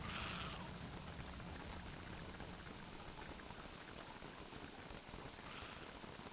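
Steady rain in the survival game Don't Starve, a soft continuous hiss of falling drops pattering evenly throughout, faint and unbroken with no talk.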